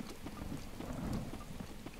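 Thunder crackling and rumbling from lightning in The Legend of Zelda: Breath of the Wild, a steady low roll mixed with rain-like hiss, fairly loud and continuous with no talk.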